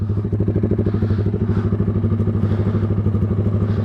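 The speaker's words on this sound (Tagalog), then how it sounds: "Grabe ingay ng pipe na to." A Kawasaki Z200 motorcycle fitted with an Austin Racing exhaust roars close by, its loud rapid exhaust pulses thumping and crackling in a fast steady rhythm as the engine is revved.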